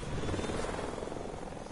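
Helicopter in the Fortnite video game, a steady whirring rotor drone with a rapid pulsing beat, moderately loud and constant with no talk.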